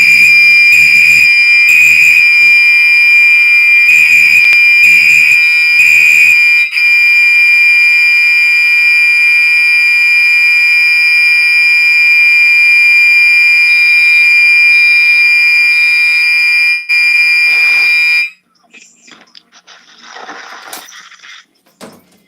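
A fire alarm panel sounds at full blast, a loud, piercing continuous electronic tone with pulsing horn bursts at first, holding steady for many seconds before cutting off abruptly, leaving faint clatter and rustling afterward.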